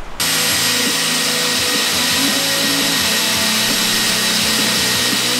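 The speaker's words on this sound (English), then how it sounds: "about to drill this thing out right now" A power drill runs continuously while drilling out a part on a Honda Elite 50cc two-stroke scooter, a loud, steady whine with slight load changes throughout.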